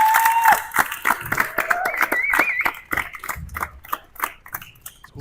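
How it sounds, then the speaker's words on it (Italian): Audience applause in an Italian interview setting, a dense burst of clapping from a crowd that thins out over a few seconds, with a voice heard over the start and some whistles. "Facciamo un enorme applauso."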